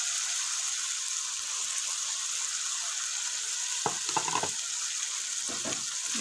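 Chicken white karahi sizzles steadily in the pan as green chillies go in, with a couple of brief bursts of louder crackling and stirring near the end.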